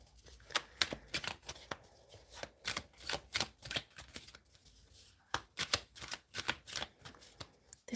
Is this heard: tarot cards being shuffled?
yes